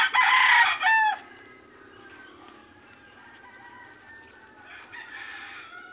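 A rooster crows loudly and close for about a second, then hens cluck softly in the background, with a few fainter calls near the end.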